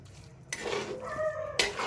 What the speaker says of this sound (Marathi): आता याच्यामध्ये ह्या साखरेच्या पाकामध्ये छान आपल्याला हा कीस अजून छान परतून घ्यायचा आहे